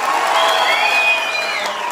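A large audience at a Bihar Diwas celebration in Mumbai applauds loudly and continuously, a dense wash of clapping with a few cheers mixed in.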